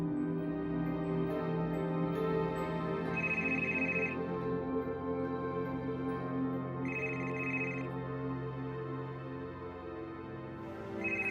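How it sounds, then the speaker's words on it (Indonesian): A telephone rings with a steady electronic tone, bright trilling bursts repeating at intervals, fairly loud and close with no voices. "Tetangga telepon"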